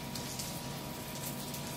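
Water sprinkled across the ground in Chiang Mai, a steady close hiss of spray and patter that sounds much like falling rain, continuous and fairly loud with no voices.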